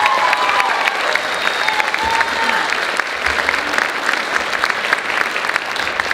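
Concert audience applauding soloists at a high school holiday concert, steady dense clapping filling the hall at an even level throughout, with scattered crowd murmur underneath.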